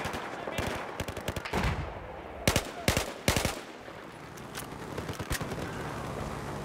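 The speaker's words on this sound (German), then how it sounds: "von irgendwo wird geschossen" Rapid bursts of gunfire in a Battlefield 4 match, with scattered shots and a few louder, closer volleys standing out from continuous battlefield noise.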